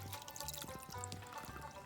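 Purified water from a Berkey filter pours into a pot inside a van, a faint, continuous trickle with light splashing.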